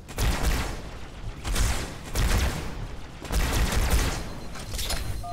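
Rapid bursts of gunfire from the Halo 2 Anniversary video game come in four or five loud, repeated volleys with short gaps between them, heavy and close, with no voice over the shooting.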